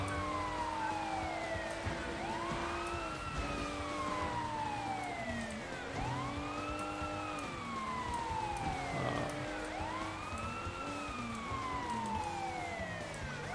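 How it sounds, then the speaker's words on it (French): A police car siren in the video game Sleeping Dogs wails continuously in rising and falling sweeps, steady and moderately loud, over the hum of a vehicle. "Ah, on peut mettre la sirène."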